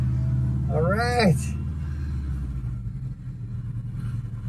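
A Subaru-converted 1979 VW Bay Window bus pulling away in first gear, its engine rumbling low and steady up close, with a rising whine early on and a voice talking briefly over it.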